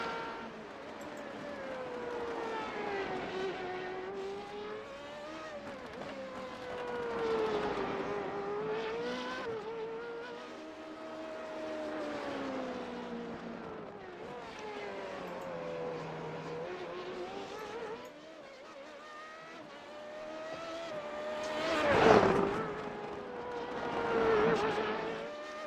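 Formula Renault 3.5 race cars lap the Belle Isle street circuit in Detroit, their engines whining and rising and falling in pitch as they pass, with a louder surge of revs near the end.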